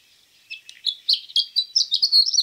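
A recorded bird call plays from a Wingspan board game upgrade, a sharp high series of rapid chirps and tweets building over a couple of seconds, close and clear.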